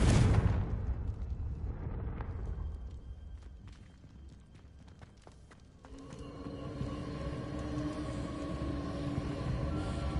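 Confringo blasting spell exploding in Hogwarts Legacy, a loud boom with a rumbling burst up front that decays, followed by layered magical game sounds and a sustained tonal swell, with no talking.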